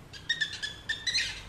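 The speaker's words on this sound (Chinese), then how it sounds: "小鸟在叫" A recorded bird call plays from a children's sound picture book about plants and insects: several short, bright chirps in quick succession, close and clear with nothing else behind them.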